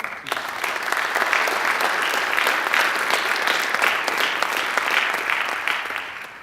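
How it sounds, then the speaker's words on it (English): An audience at a college leadership talk claps in a dense, steady round of applause that holds strong for about six seconds and then starts to fade. "Give her a round of applause."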